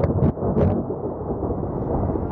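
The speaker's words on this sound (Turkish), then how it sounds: "Fırtınada havalanan uçağa kalkıştan hemen sonra yıldırım çarptı." Deep rolling thunder from a lightning strike on a KLM passenger jet just after takeoff from Amsterdam in a storm with heavy rain, a loud sustained low rumble with brief sharper cracks near the start.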